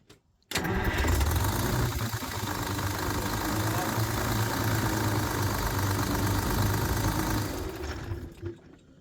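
A Detroit two-stroke diesel engine cranks and catches, then runs at a loud, steady, close idle for about seven seconds before shutting down and fading out.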